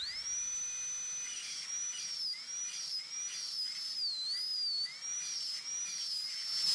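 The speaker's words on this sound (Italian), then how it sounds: "andrò ad adoperare una fresa ad anello rosso a football per essere meno aggressivo" A red-ring football-shaped dental bur polishing a monolithic ceramic crown gives a steady, high-pitched whine that wavers up and down in pitch as pressure changes, heard close and alone without talk.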